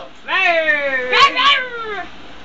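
A drawn-out, wavering meow, most likely a human voice imitating a cat, rises and falls once with a brief bump in the middle.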